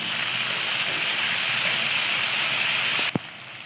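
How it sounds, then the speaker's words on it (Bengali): Green chilli paste with ginger paste, salt and sugar sizzles hard in a pan, a loud, unbroken hiss that cuts off abruptly near the end with a single dull knock. "এবার এটিকে আমি কষতে থাকবো"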